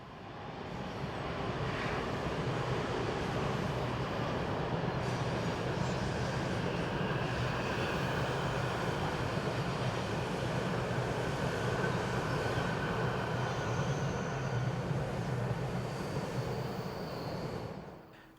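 Swiss Re 460 locomotive 460.005 crosses above a town with a Chiasso to Zurich train on the Gotthard north ramp, a sustained broad rumble and roar of wheels rising in, holding steady and fading near the end.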